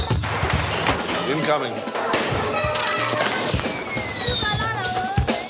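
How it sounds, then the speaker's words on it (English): Kids set off fireworks in the old Medina of a Libyan city on the eve of the Prophet's birthday: rapid, ragged bursts of cracks and pops in a crowded street, with shrill whistling rockets near the end and people talking throughout. "Kids are setting off fireworks in the Medina."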